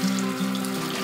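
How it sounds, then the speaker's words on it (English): Hot tap water streams steadily into a colander of thawing salsa ingredients in a home kitchen, a close, continuous splashing hiss with a faint tonal hum beneath it. "I'm just going to take hot water and I'm just going to rinse them."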